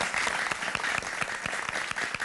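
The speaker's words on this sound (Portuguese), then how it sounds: "Eu quero pedir uma salva de palmas bem forte," A studio audience on a Portuguese TV show gives a strong round of applause. The clapping is dense and continuous for the whole stretch, fairly close, with a few sharper claps standing out above the wash.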